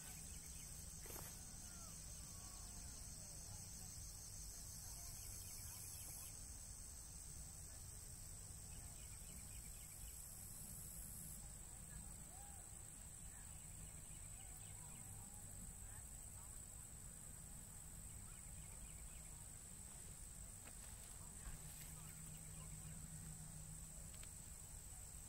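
Constant high-pitched chirring of crickets fills the background during the 2017 total solar eclipse in Gallatin, Tennessee, faint and steady, with a few distant bird calls.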